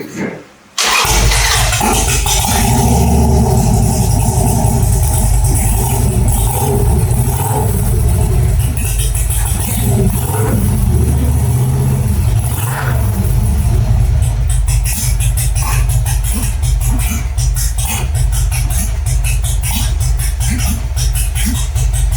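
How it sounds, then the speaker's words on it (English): A Harley-Davidson motorcycle built as a Captain America replica starts up and then rumbles and revs loudly and close for a long stretch, its deep throbbing exhaust steady throughout. "Personally, I think it's the best sounding Harley that I've heard."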